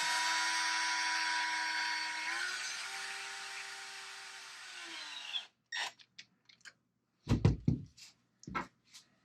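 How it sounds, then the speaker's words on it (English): A power driver whines steadily as it snugs screws on a Traxxas UDR rear differential, its pitch dipping under load before stopping, followed by sharp knocks and clicks of parts being handled, with no talk. "I just like to snug them up with the driver and then do final torque by hand."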